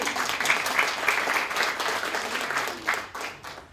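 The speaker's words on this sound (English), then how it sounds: "That round of applause goes to Alex Asensi, who's in the back right there, who made this beautiful video for us." An audience applauds after a talk at HUB Oslo, a dense, steady wash of many hands clapping at close range for several seconds before tapering slightly, with a faint voice underneath.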